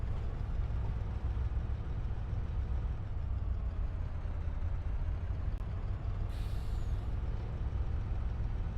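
Heavy truck braking hard in the farming game Farming Simulator 25, with a steady loud low engine rumble throughout and a short hissing air-brake burst near the end.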